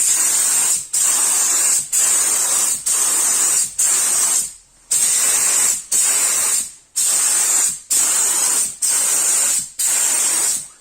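Polyurethane foam sprayed from a foam gun in repeated loud, close hissing bursts, about a dozen roughly one-second sprays with brief gaps between them and one slightly longer pause.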